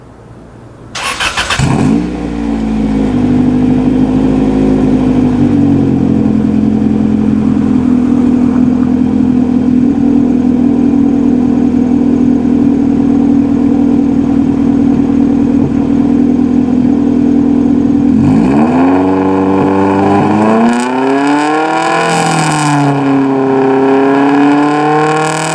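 A car engine with a modified exhaust that drones loudly holds a steady, loud high-RPM rev near 5,000 for about fifteen seconds. It then drops to a lumpy idle with a couple of small throttle blips, and there is no talk.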